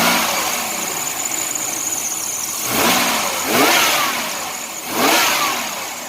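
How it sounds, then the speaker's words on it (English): A Chevrolet Lumina Eurosport's 3.1 V6 revs up sharply a few times over a steady idle. Each rev swells loudly and then falls away quickly. "when you give it the beans, it actually revs up"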